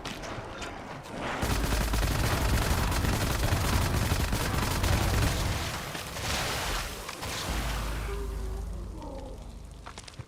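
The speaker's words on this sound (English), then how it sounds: "Like the shotgun." Loud, continuous barrage of shotgun blasts and booming gunfire in a boomer shooter video game, with dense overlapping shots and no speech.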